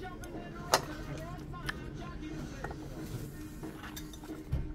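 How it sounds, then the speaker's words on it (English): A few sharp clinks of cutlery against a plate as medium-cooked steak is cut at a restaurant table, scattered and fairly faint over steady background chatter and room noise. "Let me cut up a bit of steak, see what it tastes like."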